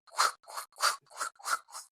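A human voice imitates scissors cutting the back of the scalp during a hair transplant procedure, making six quick, rhythmic hissing snips in close succession, near and clear against silence.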